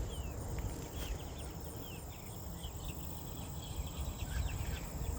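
Insects chirp among buckwheat blossoms outdoors, probably grasshoppers: a steady, fairly quiet layer of high trilling calls over soft low background rumble, with no voices.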